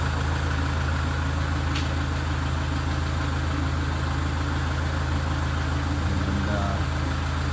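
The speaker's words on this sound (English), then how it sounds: "let me turn the tractor off here so you can hear me a little bit better here" A Kubota L4060 compact tractor engine idles in a steady, low drone throughout, close and constant, with no talk over it.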